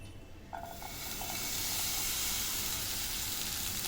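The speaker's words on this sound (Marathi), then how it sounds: "थोडंसं तेलात आपण भाजून घ्यायचं आहे" Peeled sweet corn kernels roasting in a spoonful of oil, a hiss that swells quickly to a loud, steady steamy sizzle after a few early clinks.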